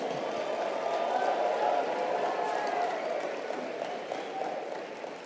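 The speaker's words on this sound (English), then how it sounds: "Give yourselves a round of applause." Audience applause at a motivational speaking event, a soft, diffuse wash of clapping and crowd noise heard from a distance, steady at first and thinning toward the end.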